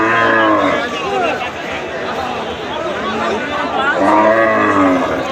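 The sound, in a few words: bull mooing at a cattle market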